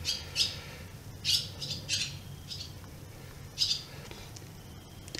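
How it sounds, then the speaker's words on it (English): A few sharp, scattered bird squawks ring out over a low, steady outdoor hum, with short pauses between calls. "Just birds."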